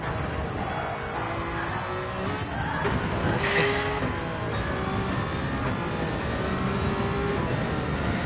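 Race car engine droning steadily down the long Mulsanne straight in a sim racing game, loud and continuous with rising and shifting gear tones throughout.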